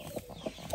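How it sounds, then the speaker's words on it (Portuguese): A hen on a small farm clucking close by in a few short, soft pulses over under a second, with no talk over it. "Tem uma galinha aqui."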